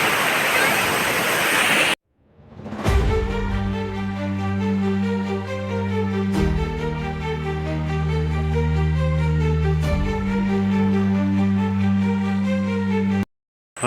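Steady, loud rushing roar of a waterfall near Dali, Kulathupuzha, continuous and close, with a brief cut near the start and end.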